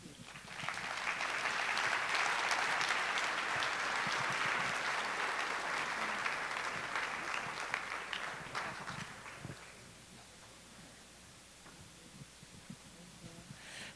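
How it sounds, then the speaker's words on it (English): An audience applauds three panelists at the Regenerate 2018 conference, warm moderate clapping swelling in the first seconds and holding for about eight seconds before thinning out to a quiet room. "Let's give them another warm round of applause."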